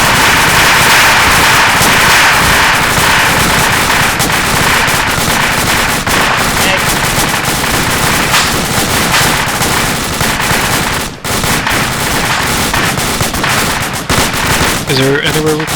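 Airsoft skirmish gunfire, rapid bursts of plastic BB shots crackling loudly and almost without pause in a dense, continuous barrage, with shouted voices mixed in.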